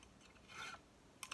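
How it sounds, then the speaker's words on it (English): A brief, quiet rasping stroke of a fret end beveling file across guitar fret ends, with a short scrape midway and another at the end. "Fret end beveling file"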